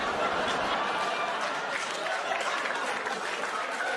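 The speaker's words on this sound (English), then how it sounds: "Applause break on a joke I've never said before on my special." A comedy club audience at a stand-up set breaks into steady, dense applause with a few scattered cheers and laughs, sustained at an even level throughout.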